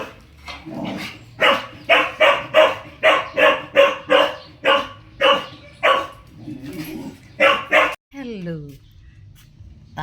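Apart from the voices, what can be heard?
dog barking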